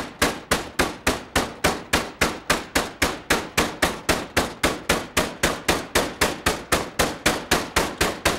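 Rapid, evenly spaced thuds of a meat mallet pounding food on a kitchen counter, about three to four blows per second, loud and close with no talking.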